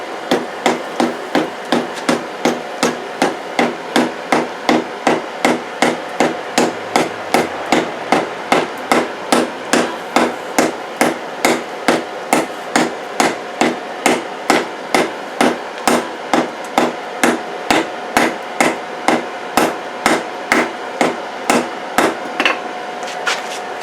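Steady, rapid hammer blows forge-weld a steel cable billet for a Damascus knife, dozens of evenly spaced sharp metallic strikes ringing loud and close over a continuous background hum, with no talking.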